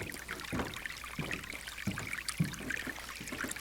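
Small mountain stream running down from a little waterfall, a steady close trickle and splash of water with soft bursts and gurgles throughout, no voices.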